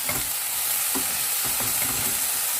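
Broccoli stir-frying in a pan, a steady close sizzle with soft scraping stirs every half second or so, no talking.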